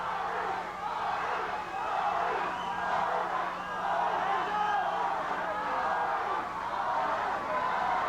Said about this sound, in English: The crowd involved, enjoying boxing on this Rising Stars production.